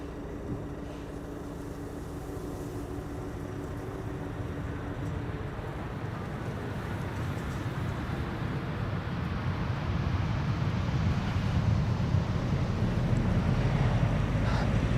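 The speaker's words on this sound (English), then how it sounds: "KLM flight 954. E2 Embraer 195 coming in from Newcastle." A KLM Embraer 195 E2 jet comes in to land at Amsterdam Schiphol in gusty crosswind, a distant roar that steadily grows louder over the clip, mixed with wind buffeting the microphone.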